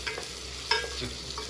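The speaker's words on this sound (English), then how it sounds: "the onions are sizzling, and they're talking to me." Onions frying in hot olive oil for a garlic sauce give a soft, steady sizzle with faint stirring scrapes, close and fairly quiet, with no one talking.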